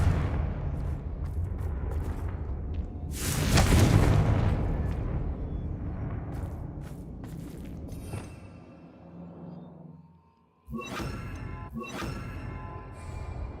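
Confringo fire-blast spell explosions in Hogwarts Legacy, a loud booming burst early that decays into rumbling ambience, then sharper cracking blasts near the end, with no talking.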